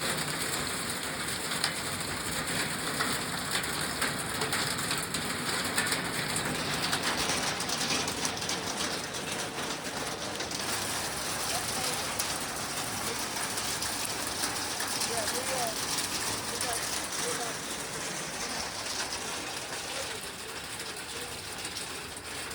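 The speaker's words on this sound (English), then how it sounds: "as we were packing up camp, we had a little hailstorm come in, and it was loud," Hail pelts a camp during a Colorado duck hunting trip, a loud, dense, steady rattle and patter that fills the whole stretch without letup, with no clear voices on top.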